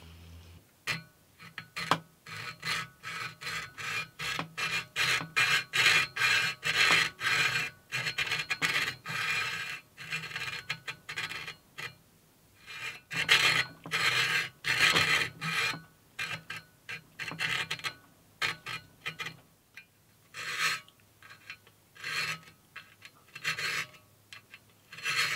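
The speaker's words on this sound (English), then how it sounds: "I can just file until it's exact." Steady rasping strokes of a metal file cutting a slot in a guitar fret position template, back and forth in quick repeated bursts, close and continuous with brief pauses between runs.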